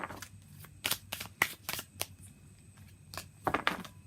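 Tarot cards are shuffled in a series of crisp, riffling bursts, about a dozen quick papery flicks in an uneven rhythm, close and fairly quiet, with no talking.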